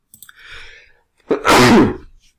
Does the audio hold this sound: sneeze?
yes